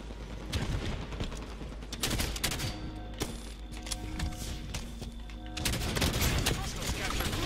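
Weapon blasts during a Halo 5 Strongholds multiplayer match on the Empire map, a fairly faint spread of shots mixed with other game effects and quiet voices.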